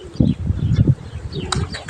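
Pigeons flapping their wings as they take off, a few quick close flutters of beating wings over a low outdoor background.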